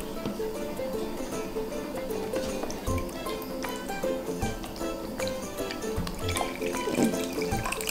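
Water pours and trickles from a small container into a larger measuring jug, a continuous close splashing and gurgling with occasional clinks and faint sounds in the background.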